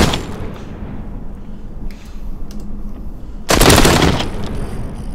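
AK rifle fired in the VR zombie shooter Arizona Sunshine, a dense rattle of rapid shots over a low rumbling background, with a loud, close burst near the end.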